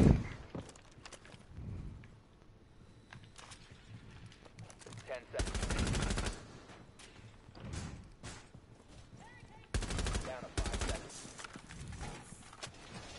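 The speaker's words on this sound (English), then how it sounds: "Lucky hip fire shot." Sharp bursts of video game gunfire from hip-fire shots, in several loud clusters that stand out over a quieter, busy game soundscape.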